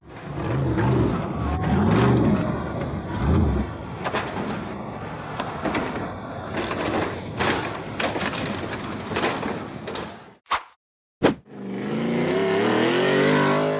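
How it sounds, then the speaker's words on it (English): A blue off-road buggy engine roars as it charges across flat ground and up a very tall, steep sandy dirt hill, loud and rising, then cuts out briefly before a fresh revving surge. "The blue buggy accelerated across the flat ground and then charged straight up a very tall, steep, sandy dirt hill"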